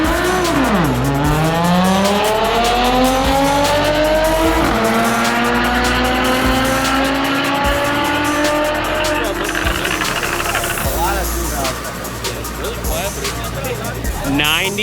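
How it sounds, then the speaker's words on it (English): A Chevrolet Camaro with a 450 HP LS engine accelerating down a drag strip, a loud close V8 roar climbing steadily through several gear shifts with tire squeal, people talking underneath. "He's gonna be giving the Camaro a spin."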